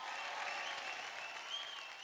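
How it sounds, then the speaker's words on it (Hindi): A studio audience at a televised Indian dance competition show claps loudly and steadily, a dense wash of applause that fills the space evenly from start to finish with no talking over it. "एक बार जोरदार तालियां हो जाए।"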